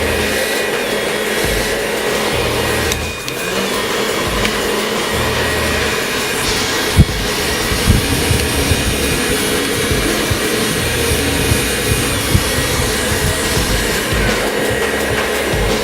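A hair dryer blows air onto pompadour-styled hair in a loud, steady roar that holds almost unchanged throughout. A few brief bumps and shifts come as the dryer moves, close up, with no talk.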